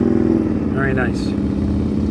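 A motorcycle engine hums at fairly high revs during slow-speed riding practice in Maryland, a close, steady low drone with a slight rise and fall while someone talks over it.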